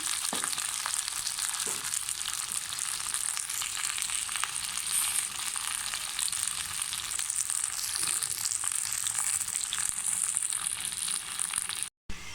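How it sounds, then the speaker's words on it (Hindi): Okra fries in a pan with a dense, continuous sizzle that stays loud and even throughout, then cuts off briefly near the end. No one speaks. "भिंडी को हमने व्यूवर्स अच्छे से फ्राई करना है"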